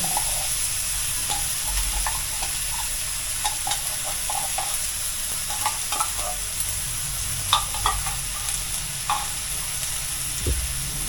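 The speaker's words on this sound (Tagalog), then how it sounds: "Ngayon naman, nilalagay ko na itong corned beef." Corned beef goes into a hot pan with hotdog for baked macaroni, sizzling and hissing steadily for several seconds while a spatula taps and scrapes now and then, close up and without speech.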